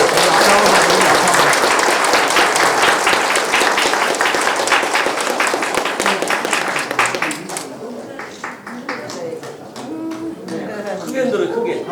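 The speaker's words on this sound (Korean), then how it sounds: "모두 뜨거운 박수 부탁드립니다." An audience at a council inauguration ceremony applauds warmly, loud dense clapping that fills the room for several seconds before thinning out, with scattered voices and a spoken voice emerging toward the end.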